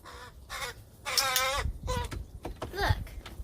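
A trained crow gives a run of loud, close, harsh caws in separate bursts, with brief pauses between calls and faint background sound.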